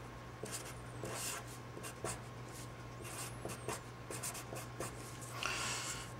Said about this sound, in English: I'm writing all this on the next page